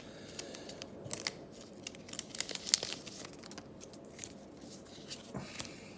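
Scissors snipping open the top of a Pokémon card booster pack, Shiny Star V: soft, close crinkling foil and a few sharp cuts over steady low background noise, fairly faint, no voices.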